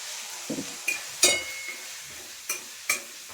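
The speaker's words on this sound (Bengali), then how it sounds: "তাতে আমি কষাচ্ছি আদা দিয়ে, জিরে দিয়ে, হলুদ দিয়ে, সব রকম দিয়ে কষাচ্ছি" Beans and potatoes sauté with ginger, cumin and turmeric in a pan: a faint steady sizzle under several sharp clinks and scrapes of a spoon stirring against the metal, spaced irregularly, with no talk.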